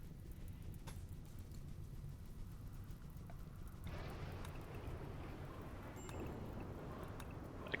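Rain and thunder in a colony-building video game make a steady soft patter with a low rumbling undertone, swelling slightly partway through and continuing without pause.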